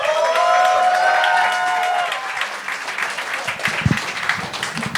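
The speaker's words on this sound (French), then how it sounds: "Un tonnerre d'applaudissements pour Max Richard" A television comedy show audience applauds and cheers as a performer is introduced, loud clapping and whoops with some music early on, fading into scattered claps and a brief voice near the end.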